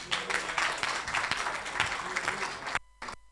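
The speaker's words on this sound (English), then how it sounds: "Give yourselves a round of applause." Audience applause at a live event launching a newly branded wine, a dense wash of clapping that holds steady for nearly three seconds, then drops away abruptly with a short final burst.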